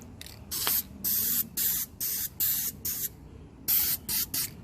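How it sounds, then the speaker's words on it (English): An aerosol spray paint can hisses in a series of short, sharp bursts with brief pauses between them, close and fairly loud, painting wheels black. "Should be pretty much ready to spray."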